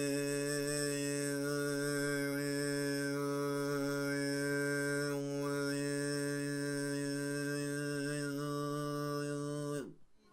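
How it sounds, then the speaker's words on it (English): Tuvan throat singing in the Khoomei style: one sustained, buzzy vocal drone with ringing overtones above it, held steady and close for about ten seconds before cutting off abruptly. No talking. "I'll give you a little example of Humei."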